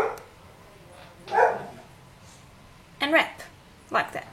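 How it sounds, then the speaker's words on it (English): A dog barks in short bursts, several sharp yaps close by, alternating with a person talking nearby. "Excuse the dog, she keeps on barking."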